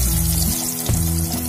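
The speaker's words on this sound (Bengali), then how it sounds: "আলুটা দিয়ে একটু লাল লাল করে ভেজে নিতে হবে।" Cubed potatoes frying in hot oil make a dense, loud, close sizzle that holds steady throughout, with a tonal musical bed underneath and no voices.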